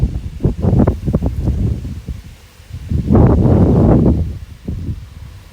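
Strong wind from a cold front in Ille-et-Vilaine, France, buffets and roars in gusts, swelling to a heavy blast midway before easing off, with rustling noise throughout.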